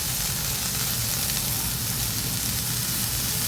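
Finely chopped spinach sizzles steadily as it is sautéed in hot oil for a besan dish, a close, even frying hiss with no voices.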